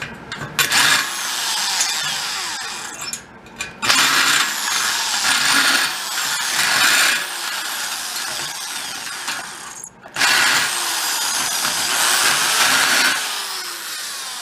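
Loud, harsh power drilling bites through sheet metal on a 1962 split-window bus in several long bursts, with brief pauses between them and no talking.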